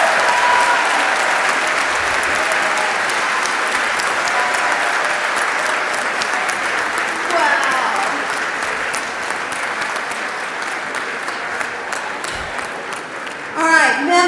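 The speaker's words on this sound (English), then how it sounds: "Congratulations, members. Now you can applaud." Sustained applause from a large crowd of Texas House members fills the legislative chamber in Austin, steady and loud for many seconds without a break.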